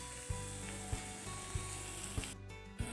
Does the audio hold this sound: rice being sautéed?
yes